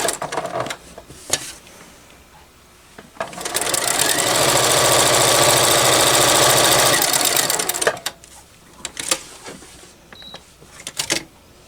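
A sewing machine fitted with a walking foot and set to a longer stitch length stitches a fabric microwave bowl, running in one steady burst of about four seconds between quieter handling clicks and rustles.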